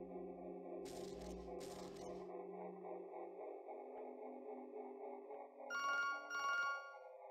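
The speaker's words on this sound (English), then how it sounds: "A phone?" A telephone rings in the video game To The Moon, with two short double bursts of bright electronic ringing at the start and again near the end, over soft sustained background music.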